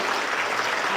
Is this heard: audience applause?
yes